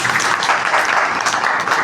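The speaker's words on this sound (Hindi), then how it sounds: "बात अच्छी लगे तो ताली लगे।" An audience at a senior citizens' monthly meeting claps together in a steady burst of applause, dense and continuous for about two seconds.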